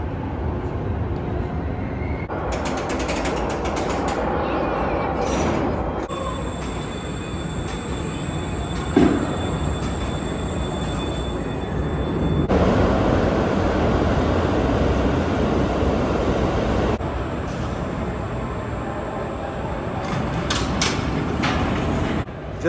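Ride aboard the El Loco roller coaster at Adventuredome in Las Vegas: a continuous loud rumble and roar of the train on its track for over twenty seconds, with shifting intensity and bright hissy bursts, no talk.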